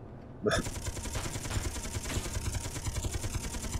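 Rapid automatic gunfire from ship-mounted guns in the space game Space Engineers, a steady rattling stream over a low engine hum that keeps going after a sharp start, with someone talking over it.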